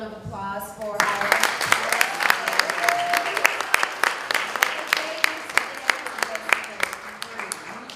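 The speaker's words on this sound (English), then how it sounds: "another round of applause for our" Lively audience applause at a live entrepreneurship panel event breaks out after a speaker's closing words, crisp claps and cheers sustained steadily, with talk heard briefly at the start.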